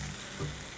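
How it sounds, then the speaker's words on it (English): Baby corn in ginger sauce sizzles in a pan, a short, steady frying hiss as it is stirred and coated. "Now mix it in really well so that all the baby corn gets coated"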